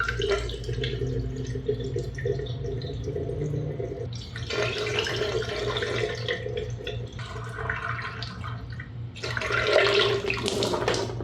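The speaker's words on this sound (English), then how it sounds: "So I bought this kind of a funnel so that it is easy to pour the liquid into the system." Water pouring steadily through a funnel into the cooling system of a Suzuki GSX-R1000R motorcycle, a soft continuous trickle and gurgle, close up and quiet, with a steady hum underneath and no talk.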